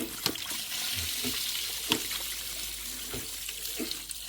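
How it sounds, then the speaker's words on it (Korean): Water rushes steadily through the outlet hose of a non-powered brass check-valve pump, a continuous splashing flow with a few louder knocks and gurgles spread through it, heard close and alone. "이제 지금 출수 호스 막고 있는데 이걸 놓으면 또 멈춥니다."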